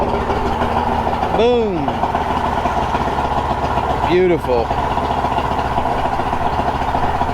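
A boat engine just taken out of storage idles steadily and evenly at close range. Someone speaks briefly over the engine.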